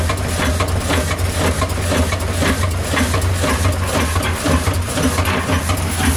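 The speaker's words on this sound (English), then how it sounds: "The engine doesn't have too much water in the water jacket, so it's a little bit of vibration." An engine runs at a steady idle to charge batteries, a loud continuous low rumble with an even vibrating throb and no talk; the water jacket is low on water.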